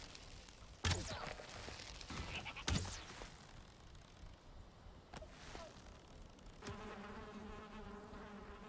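Bees buzz in the Valheim video game, a faint continuous drone beneath sharp clicks and thuds of combat, with a tonal buzzing hum rising near the end.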